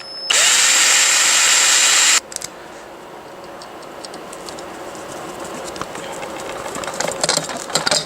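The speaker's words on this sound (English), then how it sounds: "Go ahead and put the drill bit through the bottom hole and just drill about 1/2 inch." A power drill whines loudly for about two seconds, boring a hole through a fitness equipment frame, then stops, followed by quieter ticking and clicking handling sounds.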